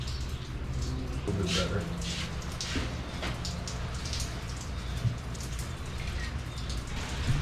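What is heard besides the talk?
rain falling outside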